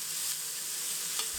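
Spices and grated coconut dry-roast in a pan for mutton masala, giving a soft continuous sizzle and scraping stir, close and steady, ending with a brief clink.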